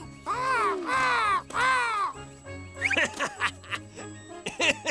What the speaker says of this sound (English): Look, there's a crow.